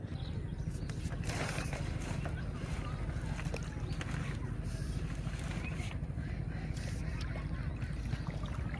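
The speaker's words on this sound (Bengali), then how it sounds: "নৌকাটা একটু ঠেলাইতেছে" Steady low rumble of water and wind with faint splashing, as a wooden boat is pushed slowly through shallow water outdoors at sunset.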